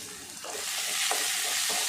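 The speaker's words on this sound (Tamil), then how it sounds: "வெங்காயம் நல்லா வதங்கணும்." Onions sizzle in a little oil in a pan with lentils and curry leaves, a close, steady frying hiss broken by the soft scrape of stirring.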